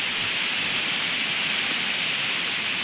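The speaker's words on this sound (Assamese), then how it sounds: "বৰষুণ আহি আছে" Steady hiss of rain falling, an even wash of patter with no pauses and no voices.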